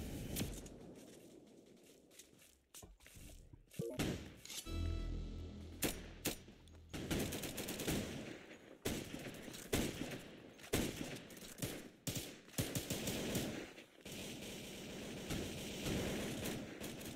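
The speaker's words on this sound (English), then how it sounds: "Why do I keep shooting the ladder?" Video game gunfire rattles in rapid bursts and repeated volleys throughout, loud and dense with brief gaps, with no talk over it.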